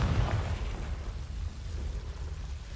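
Confringo fire spell explosion in Hogwarts Legacy, a deep low rumbling boom with a burst at the start that settles into a sustained rolling roar, moderately loud and alone.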